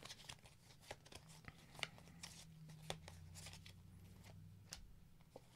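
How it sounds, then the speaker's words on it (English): A deck of game cards is shuffled close up, quiet riffling and snapping of cards in quick irregular bursts against a faint low background hum. "I should give these a good shuffle again."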